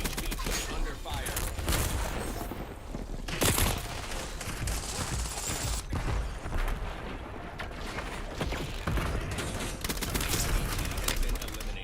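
Automatic weapons rattle almost nonstop in a Call of Duty Black Ops 7 firefight, loud sharp bursts layered with heavier booms near and far, while game voices call out over the shooting.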